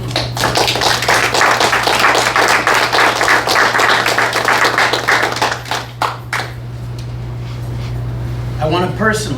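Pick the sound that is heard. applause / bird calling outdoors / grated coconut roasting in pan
applause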